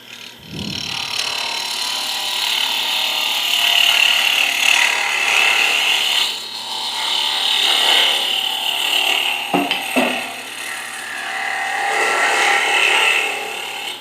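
Wood being hollowed out for a bird house Christmas ornament: a continuous close scraping and rasping of the cutting tool, with a couple of brief sharper catches near the end.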